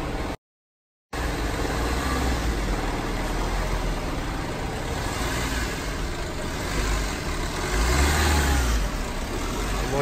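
A Maruti Suzuki Swift drives into a car washing area, its engine giving a steady, moderately loud rumble that runs almost continuously after a brief dropout near the start, with no talking.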